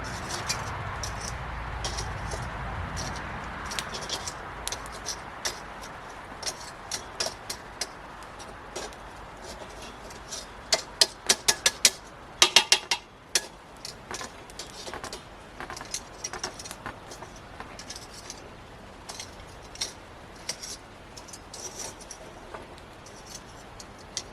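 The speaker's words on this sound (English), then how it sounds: "I'm going to pull that lump out of there and put it kind of in the middle" Lumps of charcoal clatter and clink as they are shifted around by hand inside a Cuisinart 18-inch vertical smoker, COS-118, with sharp irregular knocks bunching into a dense burst midway, close and fairly quiet, no talking.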